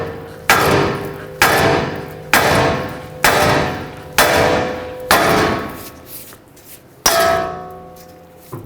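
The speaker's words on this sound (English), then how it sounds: "Hammer here, hit the knuckle," A hammer striking a steering knuckle on a 2007-2010 Chrysler Sebring to pop the tie rod loose: six evenly spaced loud metallic clangs, then a pause and one more ringing hit.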